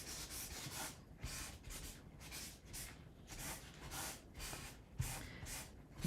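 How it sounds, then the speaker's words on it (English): A kitchen towel rubs over paper to blend a pencil sketch, giving soft, steady scrubbing strokes in a repeating rhythm, faint and close, with no talking. "I'm going to use my kitchen towel to blend a bit here"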